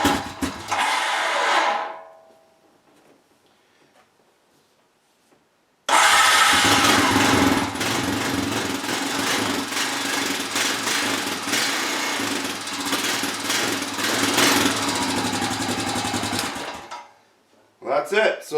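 A Honda engine with a rebuilt starter cranks briefly, then fires and runs with a loud, fast, buzzing rattle for about eleven seconds before cutting off.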